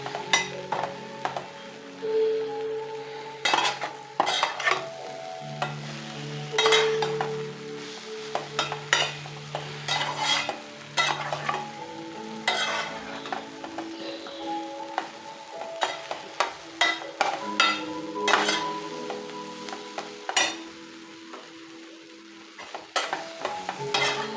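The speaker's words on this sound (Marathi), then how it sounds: "एक 2-3 मिनटं फक्त परतायचं आहे, मसाला सगळीकडे लागूपर्यंत" Masala-coated bread sautés in a pan on low heat: a soft sizzle beneath frequent clinking and scraping stirs of a utensil against the pan, close and irregular, with no voices.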